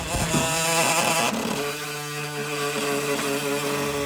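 A power tool whines loudly and steadily up close as it cuts jagged rusted metal off a four-door Chevrolet Silverado truck, its pitch dropping partway through as the cut loads it.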